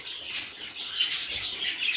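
Rapid, high-pitched chirping from a budgerigar chick, close and continuous, with brief pauses between bursts of tweets.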